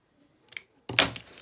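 Scissors make a quiet double snip through material, a faint click followed by a sharper, fuller cut close by in an otherwise silent room.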